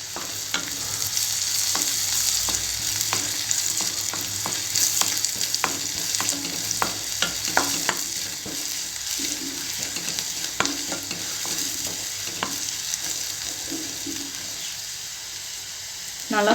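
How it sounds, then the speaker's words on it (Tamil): Ingredients for broccoli soup fry in a pan with a constant loud sizzle, punctuated throughout by frequent sharp clicks and scrapes of a spatula stirring against the pan. "சின்னதாகிற வரைக்கும் நல்லா ஃப்ரை பண்ண விட்டுக்கலாம்."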